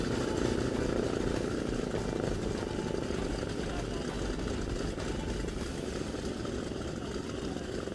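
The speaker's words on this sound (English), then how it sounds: "There's the right engine going." A World War II bomber's right engine running at an air expo, a steady loud broadband drone with propeller rumble that holds constant throughout, with some voices around.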